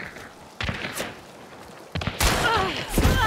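Gunshots in the video game Hunt: Showdown, a few heavy booming reports with thuds and echoing tails, some nearer and louder than others, with a voice speaking partway through.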